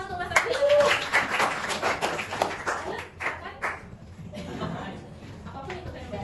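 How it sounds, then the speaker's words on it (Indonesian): Brief burst of clapping from a classroom group after a student presentation, a few seconds of scattered hand claps with light chuckling, fading as talk resumes. "Tepuk tangan untuk Mas Alfian."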